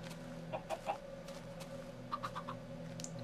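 Chickens in the Minecraft video game give short, soft clucks in two small clusters over a quiet, steady background hum.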